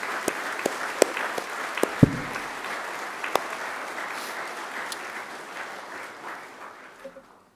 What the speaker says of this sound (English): I ask you to give them a round of applause too